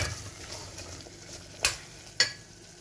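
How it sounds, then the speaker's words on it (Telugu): Broad bean curry seasoned with chilli powder and garam masala is stirred in a pan, a steady soft sizzle and scraping with two sharp spoon knocks against the pot near the end. "దానిలో కారం, కొంచెం గరం మసాలా అండి వేసి తిప్పుకోండి కదా."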